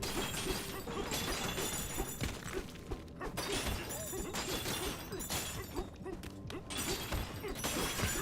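Gold shatters in the Donkey Kong Bananza video game, a run of sharp breaking and crunching bursts over busy game music and effects, steady and fairly loud throughout.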